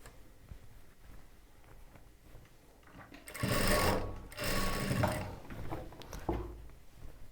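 A sewing machine stitches churidar top fabric in a close, whirring run of about three seconds that briefly dips midway, set against a quiet background hum.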